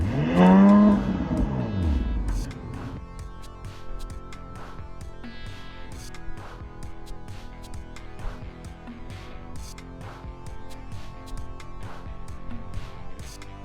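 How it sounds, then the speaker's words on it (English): An Audi SQ5 V6 engine roars loudly in a brief rev right at the start of a cold start, then settles into a steady, rumbling idle with faint ticking and clatter over it. "So let's be happy that the SQ5 makes some noise, especially on a cold start."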